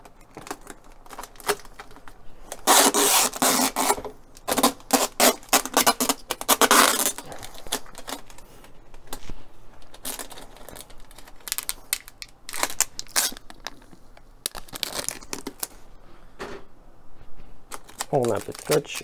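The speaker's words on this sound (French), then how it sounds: "Pour que ça tienne, on va quand même mettre un peu de scotch." Adhesive tape is pulled and pressed onto the cover of a tomato seed tray, giving bursts of crackly ripping and rustling between quieter pauses, close by, with a voice speaking at points.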